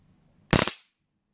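Flashlight stun gun triggered by its rear button, giving one sharp, loud electric crackling burst of about a third of a second, close by and alone, fading quickly into silence.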